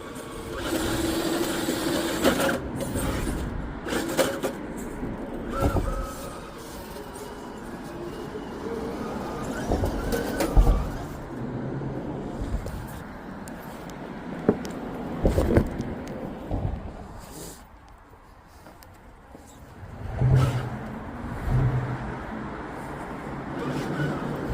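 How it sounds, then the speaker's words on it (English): A small electric motor on an RC rock crawler whines and strains as it climbs over rocks outdoors, rising and falling in bursts with wind noise and occasional clatter, fairly close. "we're gonna try and drive up onto this big flat rock"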